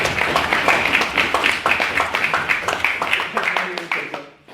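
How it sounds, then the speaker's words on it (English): Audience applause for the final proposition speaker at a student debate on decriminalising drugs, a steady patter of many hands close by that carries on and fades out at the end, with some voices underneath. "give Ryan a big round of applause"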